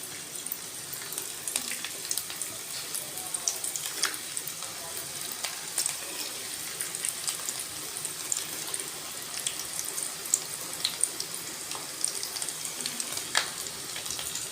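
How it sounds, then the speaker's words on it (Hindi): Potato and flour snacks frying in hot ghee over medium heat: a steady, fairly loud sizzling hiss with small crackles scattered throughout, heard alone without talk. "अब हम इसको फ्राई करते हैं। घी अच्छा खासा गर्म होना चाहिए और हम एक एक करके इसमें डालते जाएंगे।"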